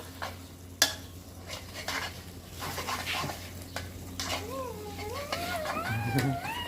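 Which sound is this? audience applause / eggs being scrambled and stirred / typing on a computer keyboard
eggs being scrambled and stirred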